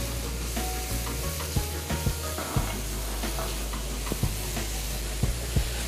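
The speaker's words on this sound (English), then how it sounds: "when you saute it with the mirpo or something like onion, carrot, and celery" Mushrooms sautéing in a pan with onion, carrot and celery, a steady close sizzle with scattered clicks and taps of a spoon stirring through it, no voices.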